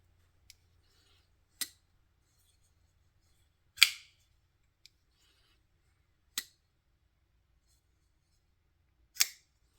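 A Kizer Shamshir pocket knife with an S35VN steel blade is flicked open and shut by its thumb studs, making a handful of sharp, crisp snaps spaced a second or two apart in an otherwise quiet room.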